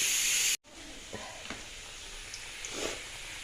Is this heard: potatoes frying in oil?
yes